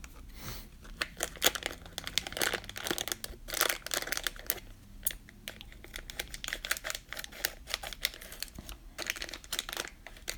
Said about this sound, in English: Let me get some scissors out.